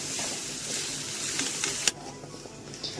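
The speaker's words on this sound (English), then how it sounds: "So we will add sugar and then mix it again together." Sugar being stirred into carrot halwa in a pan gives a close, steady hissing sizzle with soft scraping, ending in one sharp clink before it quiets.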